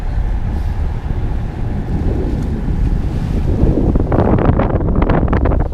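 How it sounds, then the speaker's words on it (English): A sailboat motor-sails at sea with wind buffeting the microphone, with a steady rushing roar of wind and water and waves surging louder toward the end. "Casual sunrise motor sail."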